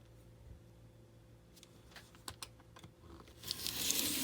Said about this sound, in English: And I'm just going to cut off the end of the bag.